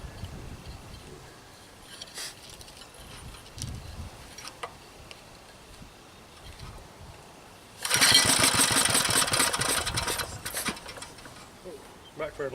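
A Briggs & Stratton small engine on full choke turns over and fires into a loud, rough run partway through, with sputtering pops like backfires; voices talk briefly before it starts.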